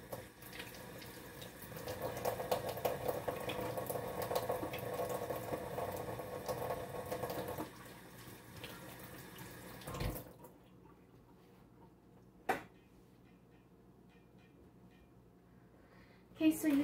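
Kitchen tap running into a sink during hand washing while baking dairy-free, gluten-free chocolate chip cookies, a steady close splashing stream for several seconds that then stops, followed by a few faint clunks.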